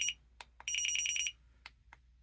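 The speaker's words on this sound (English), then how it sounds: "We have the alarm." A dog training collar sounds its alarm in a series of sharp electronic beeps, with short chirps at first, then a sustained pulsing tone lasting about half a second, and a couple more brief beeps. It is loud and close, with no talking.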